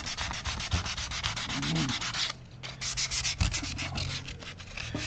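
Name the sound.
sandpaper sanding the edge of a guitar kit body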